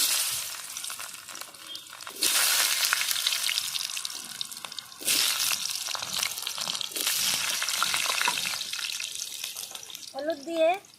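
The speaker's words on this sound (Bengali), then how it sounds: "তেল গরম হয়ে গেছে, তেলে আমি প্রথমে আলু ভেজে নেব।" Potatoes drop into hot oil for a pointed gourd and prawn dish, bursting into loud sizzling surges that settle into a steady crackle, with a brief voice near the end.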